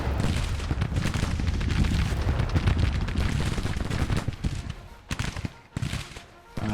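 Massed rifle fire from U.S. sharpshooters in the Civil War strategy game Grand Tactician, a dense continuous crackle of distant musketry rolling on throughout with a few sharper volleys near the end.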